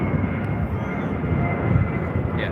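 A Qantas Airbus A350-900 departing for Auckland, a continuous deep jet engine roar, steady and fairly loud from a distance outdoors.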